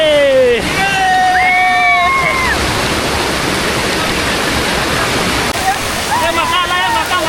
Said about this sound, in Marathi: तर मंडळी भारी वाटतं एकदम धबधब्यावरती